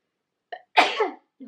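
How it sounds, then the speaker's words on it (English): A brief inhale catch, then one close, explosive sneeze, followed by a short sniff-like sound in otherwise quiet surroundings. "oh my god, I'm gonna sneeze."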